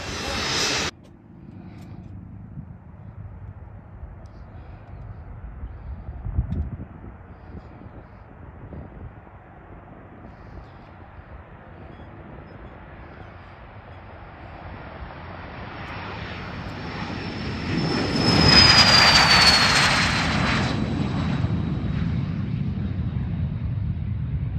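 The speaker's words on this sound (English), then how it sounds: "We're going to watch this Honda Jet take off" Honda Jet taking off: a steady jet roar that builds over many seconds into a loud, whining surge near the end as the aircraft passes close, with a rising high-pitched turbine whine on top.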